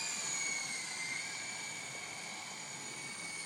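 Small remote-control flying toy with a built-in gyroscope, its tiny rotors giving a steady high-pitched whine with buzzy overtones, close and fairly quiet, holding even throughout with no voices.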